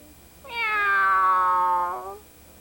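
A single long cat meow, clear and close, rising then sliding down over about a second and a half against a quiet background.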